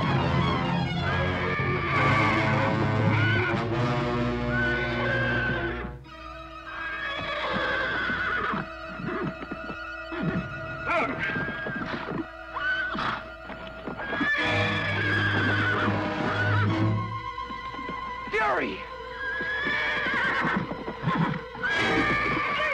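A horse neighs loudly in a series of long whinnies, with hooves clip-clopping and galloping between the calls. The scene is an outdoor western setting and the sound is close and dramatic, with no speech.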